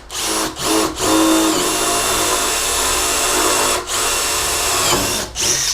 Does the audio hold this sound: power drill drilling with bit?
yes